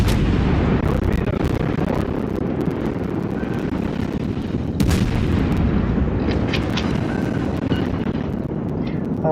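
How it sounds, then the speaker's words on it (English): Warship guns test fire in the naval video game World of Warships. Heavy booming shots and rumbling blasts sound over a constant wind-like roar. "And do a little test fire."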